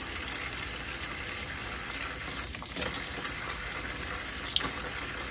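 Tap water pours steadily into a pot being filled for wool dyeing, a continuous close hiss and splash that stays even in loudness with small bubbling variations and no talking.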